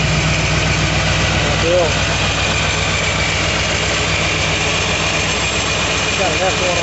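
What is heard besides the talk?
supercharged ZL1 Corvette engine idling, F1R procharger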